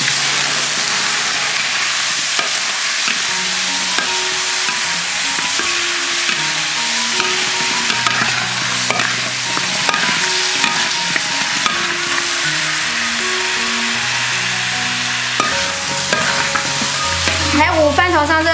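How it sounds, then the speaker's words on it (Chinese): Pork ribs sizzle and get stirred in a wok of caramelized rock sugar, a continuous loud frying hiss with scraping stirs, while light background music plays underneath. "糖色炒好，下排骨"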